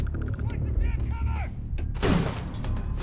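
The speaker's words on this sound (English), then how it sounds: "Oh, shotgun, huh?" Shotgun blasts and heavy combat noise in Starfield, with a loud boom and crunching impact near the end following mechanical game sounds and a short tonal chime, all close and full.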